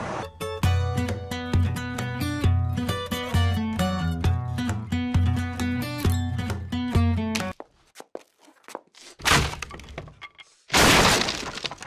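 A guitar is smashed after a stretch of upbeat music ends, giving a few sharp cracking impacts and a loud breaking crash near the close.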